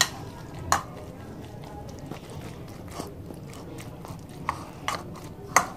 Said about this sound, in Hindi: इसको अच्छी तरह मिक्स कर ले